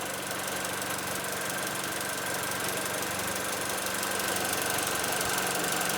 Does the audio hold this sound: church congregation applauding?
no